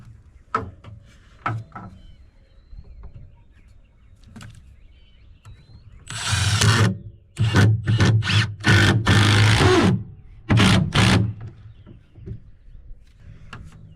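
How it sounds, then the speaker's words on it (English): A power drill drives a second screw into a back porch board on a post-and-beam porch build. Several loud motor bursts come in quick succession after a few quiet knocks. "I guess it would help if I put a second screw in"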